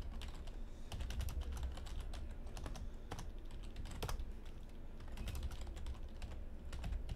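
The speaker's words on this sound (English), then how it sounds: "I wonder if Twitch chat can hear Andrew typing away these sideboards here" Computer keyboard typing, quick irregular clicks of keys pressed in steady bursts, faint and close over a low background hum, without voices.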